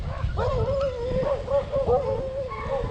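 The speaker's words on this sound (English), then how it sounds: "Just a few dogs around here." Dogs on rural Georgia farmland near cotton fields yelp and whine in a run of high, wavering cries, heard close over a steady low rumble of wind and movement.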